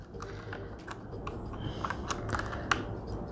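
Someone types on a Royal Kludge mechanical keyboard fitted with RK Brown switches: a rapid, irregular run of close, fairly soft clacks against a low background hum.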